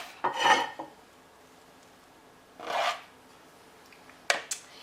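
A cake knife skims whipped cream off a plate beside a strawberry shortcake jelly roll, giving three separate close scraping strokes of metal on the plate with quiet gaps between them.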